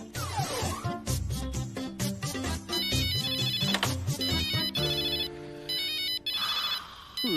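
A bright electronic phone ringtone plays a bouncy melody with beats and chiming tones, loud and close, with no voices.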